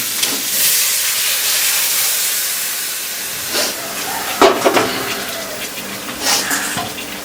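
Water poured into a pan of sizzling spices for a rohu fish curry (kalia), a broad hissing, steaming rush that holds steady, then eases into scattered sputters and small bursts near the end, with no talk.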